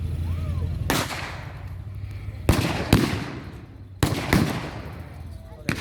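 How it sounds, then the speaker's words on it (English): An anti-tank rocket launcher fires at an outdoor WW2 reenactment battle, sharp loud blasts with echoing tails, then further bangs from the mock fight. Someone talks over the gaps. "The anti-tank rocket launcher being fired again."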